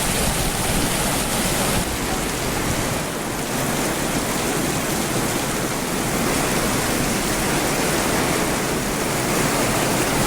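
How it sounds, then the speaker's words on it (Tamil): Sudden heavy rain pours over Erode town in a dense, steady hiss of downpour that stays loud and even throughout, with no voices. "ஈரோடு நகர் பகுதியில் திடீரென பெய்த கனமழை."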